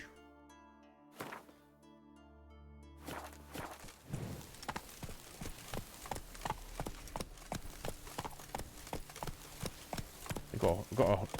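Roach, Geralt's horse in The Witcher 3, clops along with a steady run of hoof thuds that start after a quiet opening and grow firmer and more regular, set against soft ambient game sound.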